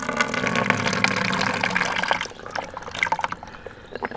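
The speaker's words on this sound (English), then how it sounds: "you will be able to see the water coming from the other part of the nose." Water from a neti pot nasal rinse runs out of a nostril in a steady trickle, then breaks into scattered drips and small splashes as the flow tapers off.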